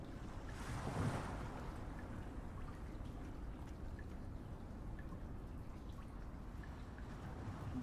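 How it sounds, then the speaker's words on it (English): Water splashes against rocky cave walls in a steady, rushing wash, with a brief louder surge near the start, then continuing evenly in the background. "Due to the bubbling water, that is what caused the water splashing against the walls of the cave."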